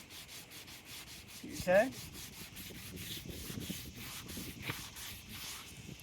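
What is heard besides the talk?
sanding a car headlight to remove yellowing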